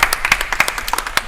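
A game-show studio audience on an antiques quiz gives sharp, distinct handclaps that are fairly close and loud. The clapping comes in a quick, uneven patter that sounds like a small crowd rather than a big ovation.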